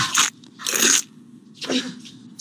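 Close, crisp crunching bites of Lotus crispy snack, three sharp crackly chomps with brief quiet gaps between them.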